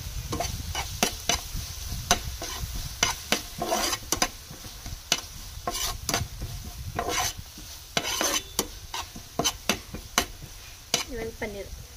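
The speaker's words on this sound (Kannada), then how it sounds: "ಸರಿ ಮಿಕ್ಸ್ ಮಾಡ್ತೀನಿ." A utensil stirs and scrapes through paneer with dark sauce and garlic paste in a hot pan, sharp repeated scraping strokes at an uneven rhythm over a faint sizzle, loud and close.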